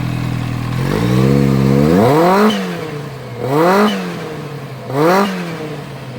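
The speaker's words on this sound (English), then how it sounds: "When you rev it up, you can hear it though. Give it a few little revs." A Kawasaki H2 motorcycle with an RPM Big Mouth cat-delete exhaust and its electronic valve closed idles with a low, even note, then climbs in a long rev and drops back. Two shorter, sharp throttle blips follow, loud and close.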